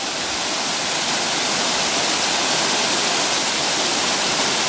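The Río Profundo rushes past a water mill in Villaviciosa, Asturias, as a loud, steady roar of water that holds unchanged throughout.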